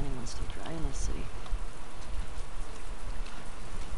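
Steady rain pours down in The Last of Us video game, a dense, even hiss of falling drops throughout, with a voice briefly speaking near the start.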